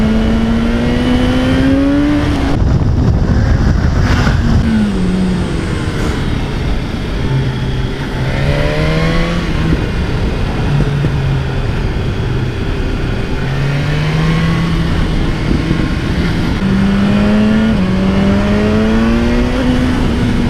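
A 2018 BMW S1000R motorcycle pulls hard through the gears, its engine note climbing steeply then dropping sharply at each quickshifter upshift, loud and continuous with wind noise and no talk.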